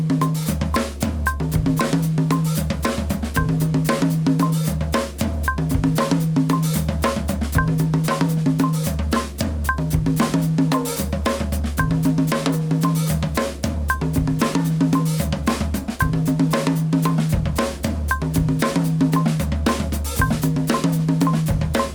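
Drum groove with a stepped hi-hat, a steady looping pattern of kick, snare and bright metallic hits repeating evenly for about twenty seconds, loud and close with no voice.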